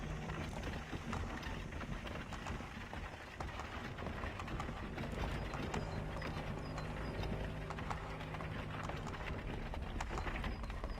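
Horses gallop in Assassin's Creed 3 amid a busy game soundscape, their hoofbeats blending into a dense, continuous rumble with clatter and wash noise for the whole stretch, no clear speech.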